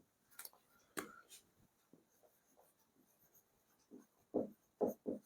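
Pen strokes on paper while notes on flange coupling are written by hand: soft, close scratching in short irregular bursts with pauses between them, quiet and with no talk over it.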